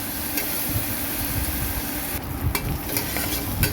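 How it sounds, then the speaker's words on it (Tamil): Mutton pasta ingredients sautéing in a pan, a continuous close sizzle with scattered stirring scrapes and taps, steady and moderately loud with no voices. "நல்லா வதங்கணும் அது ஒரு ரெண்டு நிமிஷம் விட்டுருங்க"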